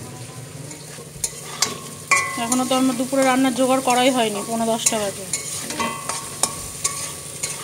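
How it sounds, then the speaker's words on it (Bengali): Momo stuffing fries in a pan with a soft, continuous sizzle and the occasional scrape of stirring, while someone talks over the cooking in the middle of the stretch. "এটা ভাজা হয়ে এসছে, এটা দিয়ে না মোমোর স্টাফিংটা দারুণ হবে"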